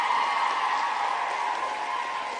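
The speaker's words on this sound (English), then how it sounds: "Could we get one more round of applause for all of these wonderful people up here?" An audience at a South Dakota Girls State session claps in a steady, fairly quiet round of applause, heard from some distance and not broken by voices.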